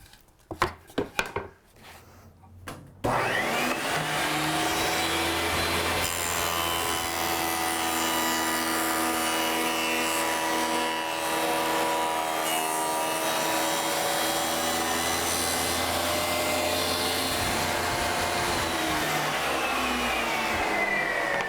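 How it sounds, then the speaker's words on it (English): A power router cuts a groove down the length of a wooden board to take a tenon for a toy chest. A few short knocks come first, then a loud, steady whine runs on alone for nearly twenty seconds. "we have to cut a groove down the length of it to accommodate the tenon on our mating style"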